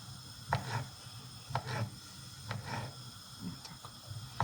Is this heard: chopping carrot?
yes